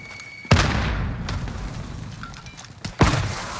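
Frag grenade explosions in the video game Call of Duty: Modern Warfare, two loud close booming blasts about two and a half seconds apart, each with a sharp onset and a rumbling tail.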